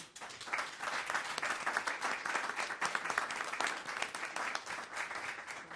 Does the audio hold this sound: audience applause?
yes